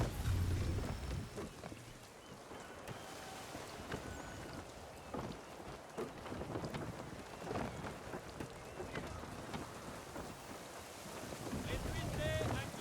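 A sailing ship moves through shallow water in Assassin's Creed III, with a continuous rush of wind and water around the hull, surging gusts and creaks, and a brief splash near the end, heard alone at a moderate level.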